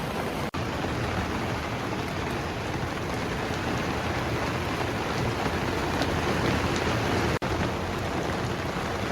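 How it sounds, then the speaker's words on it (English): Steady rain falls at Curborough's figure-of-eight race circuit during an August MG Car Club speed championship meeting, a dense, continuous hiss of drops on surfaces with no voices, broken by two brief dropouts. "and then the rains came."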